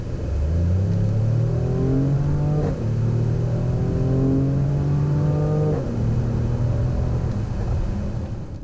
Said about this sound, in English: so let's see how it manages on the 30 to 70 sprint